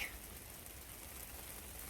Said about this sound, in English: it's been like 15 or 20 days since we've had any decent rain whatsoever, and now it's coming down